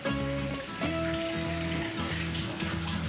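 Warm water poured from a cup into a mixing bowl while making play dough at home, a continuous splashing pour over a low background hum.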